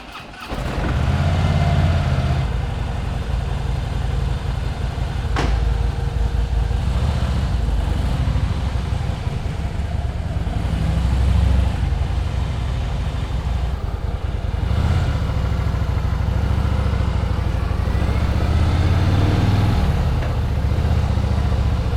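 Engine of a vehicle warming up while riding through narrow alleys, a continuous mid-pitched rumble with small swells in revs, close and loud for the whole stretch with no talking.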